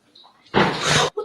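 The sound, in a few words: door banging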